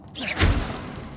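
A Confringo spell cast in Hogwarts Legacy, a single swooshing burst with a soft thud that peaks briefly and then trails into a low rumbling tail, fairly close and moderately loud.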